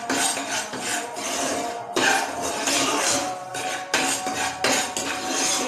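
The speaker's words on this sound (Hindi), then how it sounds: "तो अभी पैन जो है काफ़ी गर्म है, तो इसके अंदर भी मैं इसको हल्का सा रोस्ट करती जाऊँगी।" Semolina (suji) is roasted and stirred in a hot pan, making a dry scraping rasp of a utensil against metal that comes in repeated strokes with brief pauses.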